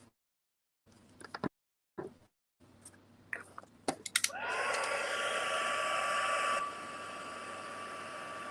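A heat tool melting clear embossing powder on a card starts with a sudden loud whirring blast of air after several short taps and clicks, runs steadily for a couple of seconds, then drops to a quieter hum.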